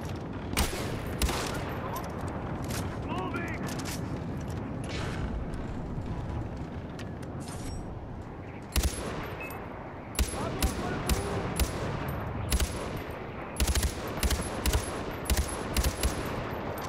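Far Cry 4 gunfire rings out in an outpost fight, with a long rumbling stretch of battle noise followed by sharp, loud individual shots and short bursts in quick succession.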